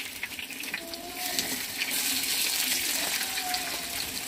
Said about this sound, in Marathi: आता हे आपण दुसऱ्या बाजूने फ्राय करून घेऊया.